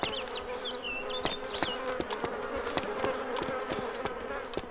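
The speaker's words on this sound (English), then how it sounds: "Bees! They're all over!" A swarm of bees buzzes steadily and up close in the video game DayZ, a continuous droning hum with sharp clicks and brief chirps scattered over it, no talking.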